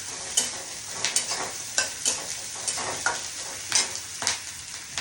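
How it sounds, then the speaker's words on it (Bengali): Onion beresta frying in butter and white oil in a pan, a steady crackling sizzle broken by a run of sharp scraping stirs spread through the clip, with no talking. "একটু তেল, সাদা তেল আর বাটার দিয়ে ফ্রাই করে নিচ্ছি বেরেস্তাগুলোকে"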